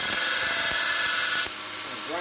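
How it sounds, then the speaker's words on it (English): Grinding 80CRV2 steel test knives down to a thin, full flat grind edge: a loud, steady abrasive whine runs continuously, then drops slightly in level partway through and carries on. "Grind these things nice and thin."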